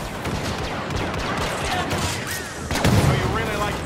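Blaster gunfire in the Star Wars Battlefront video game, a steady dense barrage of rapid shots with a louder burst near the end, mixed under game voices and battle noise.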